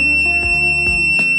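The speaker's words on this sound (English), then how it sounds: "if it fails, your screen will turn red and the buzzer will start to beep" Continuous electronic buzzer beeping from a Hioki BT3554-50 battery tester after a failed test, a loud steady tone with rhythmic pulses about twice per second.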